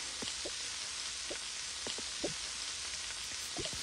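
Food sizzles and fries quietly in a Toca Boca cooking game, a soft steady hiss with a few small scattered pops and ticks and no voices.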